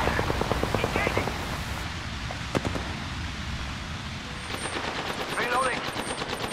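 Rapid automatic gunfire in the Apex Legends video game rattles in dense bursts, close and loud, pausing briefly before another volley starts, with a voice speaking over parts of it.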